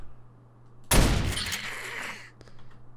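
A shotgun fires once at a sleeper zombie in the video game 7 Days To Die: a single loud, sharp blast followed by a long, rumbling decay, with a few faint clicks after.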